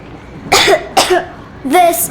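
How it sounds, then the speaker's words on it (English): A child coughs three times in separate bursts in the video game Metro Exodus, close and fairly loud, with short pauses between, the last cough drawn out with a voiced tail. "I have this cough."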